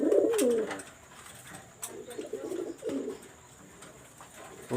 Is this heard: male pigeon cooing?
yes